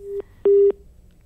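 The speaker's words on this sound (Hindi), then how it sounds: "धनंजय जी ने फोन ही काट दिया है, शायद उनके पास जवाब नहीं होगा।" Telephone busy tone after a disconnected call: two loud, clean electronic beeps, a brief one followed by a longer one, then silence.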